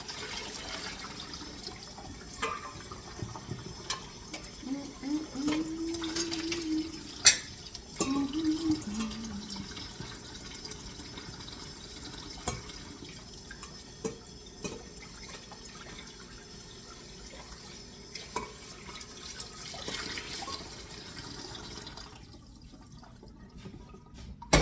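A pot being rinsed under a running kitchen tap while making cream of tomato soup, a steady low wash of flowing water with occasional clinks and drips, fairly quiet and continuous.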